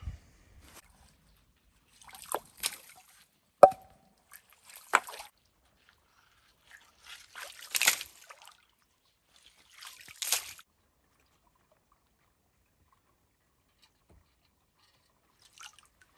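Water is scooped by hand from a shallow watering hole into a pot, heard as a few faint, separate splashes and sloshes with quiet gaps between them.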